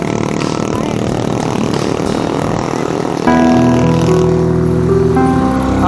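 A truck labouring on a steep uphill road in a Sundanese village, its engine rumbling loud and steady before shifting to a harsher, higher-pitched strain partway through.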